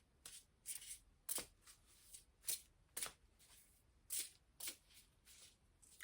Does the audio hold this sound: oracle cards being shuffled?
yes